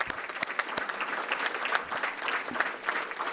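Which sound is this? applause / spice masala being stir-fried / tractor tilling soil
applause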